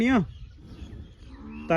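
A low buffalo moo fades out, then a second call begins at the end, with quiet farmyard noise between.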